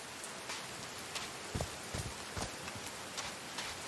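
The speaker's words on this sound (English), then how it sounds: "These drops of rain are so refreshing." Rain falls in the video game Call of the Sea, heard as a soft steady hiss broken by scattered louder drips and patters at an irregular rhythm, with no speech.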